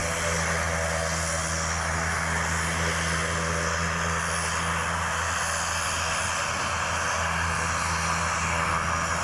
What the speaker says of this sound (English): it's always good to see a safe takeoff.